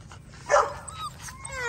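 A puppy at a kennel gives a short whimpering yip, one brief rising cry over a quiet room with soft background noise.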